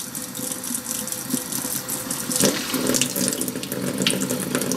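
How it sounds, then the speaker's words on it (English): Water pours steadily through a new Magnafuel Protuner fuel filter on a test setup, making a loud, continuous splashing flow like a running tap, with no talking. "the water just flows out through the bottom. It never reaches the top of the filter."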